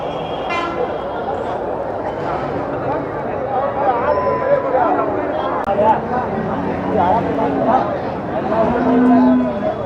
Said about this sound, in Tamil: இந்த மாடு நல்லா காங்காய் மாடு நல்ல மாடுண்ணா